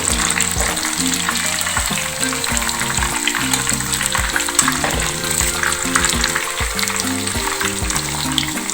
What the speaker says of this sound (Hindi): और ये बहुत अच्छी सी अंदर तक फ्राई हो गई है, बहुत मज़ेदार ये क्रिस्पी फ्राई हुई है